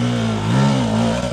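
A motorcycle engine revs hard under throttle on a first ride after a four-month break, a loud, steady mid-pitched drone rising and falling slightly, close and with no other sound.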